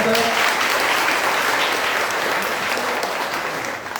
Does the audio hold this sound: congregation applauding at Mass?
yes